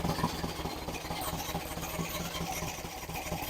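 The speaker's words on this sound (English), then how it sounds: "We have an idle." An engine idles right after its first start-up, a steady, close mid-pitched rumble with an even pulsing beat that holds constant throughout, with no voices.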